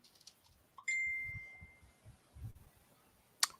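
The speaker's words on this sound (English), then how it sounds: "That was my phone" A single clear electronic ding from a mobile phone notification rings out close and sustains briefly, followed by a faint rustle and a short high chime.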